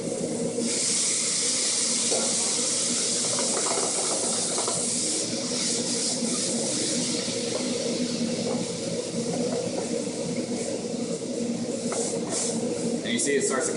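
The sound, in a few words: ginger tea poured into a hot pan, deglazing hiss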